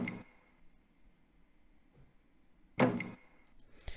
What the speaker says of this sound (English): that sound has like a layered percussion element. If you notice, there's like a tom drum, and also like what do they call that? It's like a shaker